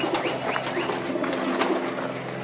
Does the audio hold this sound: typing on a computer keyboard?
no